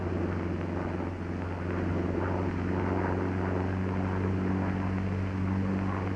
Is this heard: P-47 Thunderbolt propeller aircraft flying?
yes